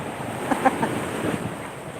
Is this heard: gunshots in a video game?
no